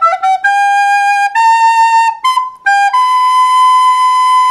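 A recorder plays the coda of a jazz tune: a short run of clear, breathy notes, some quick and detached, others sliding between pitches, ending on a long sustained note, close and loud.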